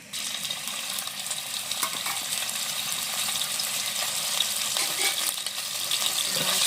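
Minced chicken for momos sizzles in hot oil in a pan, a continuous bright crackling hiss with small pops and faint stirring scrapes, fairly quiet and steady throughout.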